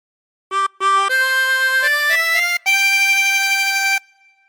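Chromatic harmonica playing a phrase of the Star Spangled Banner: two short notes, then sustained rising tones and a long held final note, reedy and bright, played solo and close.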